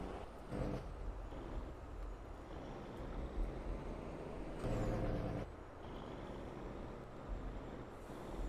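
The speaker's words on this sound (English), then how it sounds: "We're just going to unload it with the transfer truck." Transfer truck unloading in Farming Simulator 22, a low engine rumble with hissing air-brake bursts and mechanical thumps at moderate distance, no talking.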